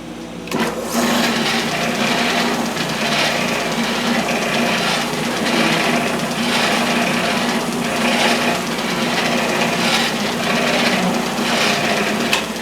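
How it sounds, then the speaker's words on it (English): A loud, continuous whirring drum sander, converted from a drill press, with a rhythmic grinding texture as it sands wood, running steadily without speech. "so I made this one into a drum sander."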